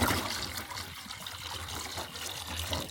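Water trickling and splashing as it is poured out for farm animals on a snowy homestead, a steady close liquid flow lasting the whole moment with no talking.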